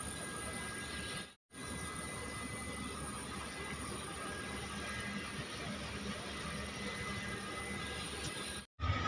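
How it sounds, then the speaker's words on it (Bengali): The 13153 Gour Express arriving at Malda Town station after its run from Sealdah gives a steady, even rumble with a faint high whine, moderate in level and unbroken apart from two brief gaps. "349 কিলোমিটারের জার্নি শেষ করে আমাদের ট্রেন এসে পৌঁছালো মালদা টাউন স্টেশনে।"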